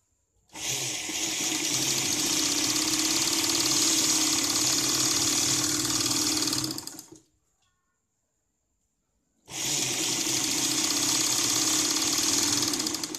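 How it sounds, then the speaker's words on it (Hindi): Sewing machine stitching a blouse lining, running in a fast steady whir for several seconds, pausing briefly, then starting up again, close and loud, no talk. "ऊपर के साइड से हम सिलाई लगाते हैं।"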